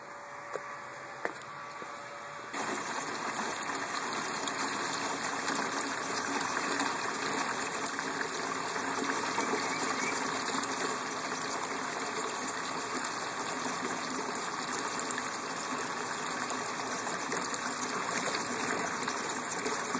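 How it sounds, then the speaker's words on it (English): A pump moves hot strike water through tubing into a mash tun during all-grain brewing of a Bavarian hefeweizen, starting after a few quiet clicks and then running as a steady gushing flow with a faint motor whine. "we're going to go ahead and use the pump to transfer the strike water over to the"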